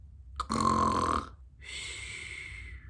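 A voice imitates snoring: a rough, throaty inhale followed by a long airy exhale, close and fairly loud, with no other sounds.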